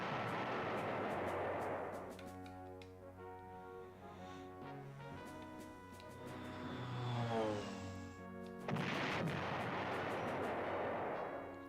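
Artillery fire and gunfire sound effects from the PlayStation 1 strategy game Panzer General, as a BA-65 armored car attacks enemy artillery, with a rumbling blast that fades to a lower steady roar and then a second blast.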